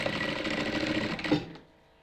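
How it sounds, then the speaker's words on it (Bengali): A sewing machine runs steadily and close while sewing a short tack stitch on a round-neck button nighty, then stops abruptly, leaving near silence. "একটুখানি টাক সেলাই দিয়ে দেবেন।"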